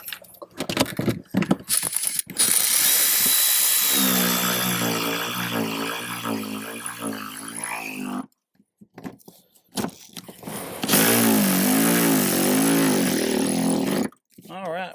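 A bolt is ratcheted tight on a seat bracket inside a 2018-up Jeep Wrangler JL, giving short bursts of close mechanical clicking and grinding between stretches of someone talking.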